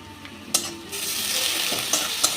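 Grated garlic, ginger and chili frying in a pan with onions already browned give a fizzing, bright sizzle that swells after a sharp clatter as they go in, with a few light utensil taps, close and without talk.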